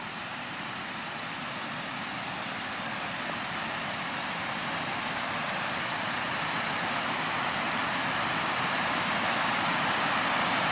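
Water rushing over a spillway at an RV park in Adel, Iowa, a steady, dense broadband roar that holds at an even level throughout, with no voices over it.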